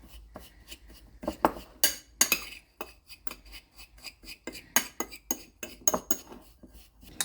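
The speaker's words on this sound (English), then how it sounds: "Just take your fork and combine the brown sugar with all the spices" A fork mixes brown sugar with smoked paprika, black pepper and other spices in a bowl, producing a brisk run of scraping, clinking strokes against the dish, close and fairly loud with no talking.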